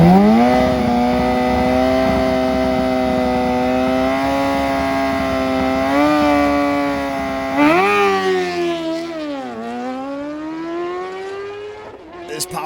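A racing superbike engine, a Suzuki GSX-R1000 or Kawasaki ZX-10R, holds a loud, steady high-pitched drone, then its pitch rises and falls sharply through several gear changes near the end.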